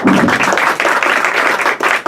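Audience applause fills a ward political candidates' forum in a hall, a dense, steady patter of many hands clapping close by for about two seconds.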